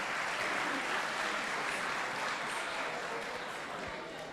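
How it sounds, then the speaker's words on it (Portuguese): Applause at an official Brazilian government ceremony: a steady, dense crowd clapping that fills the room at moderate level and slowly fades toward the end. "Uma salva de palmas, por favor"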